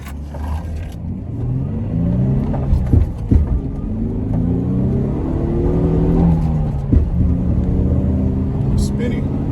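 A stock Infiniti G35 sedan with a six-speed manual, heard from the cabin as its engine note rises and falls through downshifts with gear-change clunks, loud and continuous, while someone talks over it.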